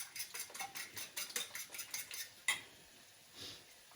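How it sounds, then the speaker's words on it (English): Eggs are whisked in a bowl, a rapid run of soft rhythmic metal taps and clicks that stops after a final sharper clink, faint and close. "Whisking up my eggs."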